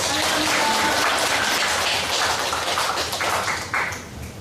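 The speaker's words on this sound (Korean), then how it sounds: "우리 박인수 장로님 박수로 환영할까요?" A church congregation applauds to welcome a visiting elder from a Seoul church: a dense, steady wash of clapping that fills the room and gradually thins toward the end.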